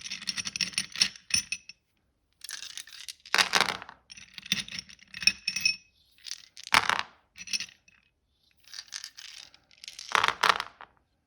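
Small hard objects clatter and rattle in repeated bursts with quiet pauses between, like dice shaken and tumbling onto a surface, close by.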